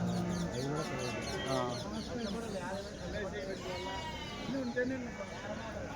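Sheep and lambs bleat repeatedly at a crowded Bakrid livestock market in Kadiri, the calls overlapping under steady crowd chatter and nearby talking.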